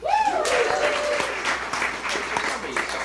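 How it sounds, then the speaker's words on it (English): A live comedy audience at a mystery-themed show claps in a steady round of applause, with whoops and voices mixed in, filling the room at a fairly loud level throughout. "give me a round of applause if you've been to a Mystery Hour before"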